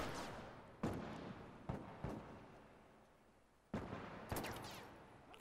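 Gunfire in The Last of Us: a handful of sharp, irregularly spaced shots ring out at a low overall level, each followed by a brief decaying tail, with no talking.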